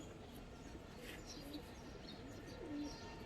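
Silver-coloured and army pigeons coo softly a couple of times against a quiet background hum, faint chirps scattered around them, with no speech.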